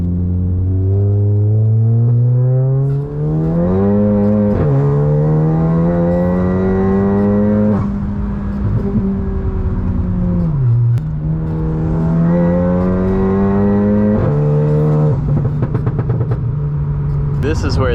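A Volkswagen MK7 GTI fitted with a big turbo accelerates hard through several gears, its engine rising in pitch and dropping at each shift, loud and close from inside the car, with a voice talking over it.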